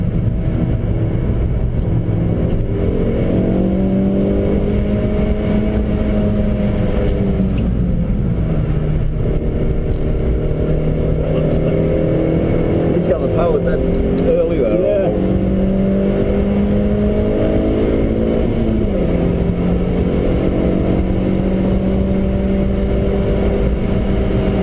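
A car engine heard from inside on a lap of the Nürburgring, droning loudly and steadily as it rises and falls through gear changes, with a driver talking over it.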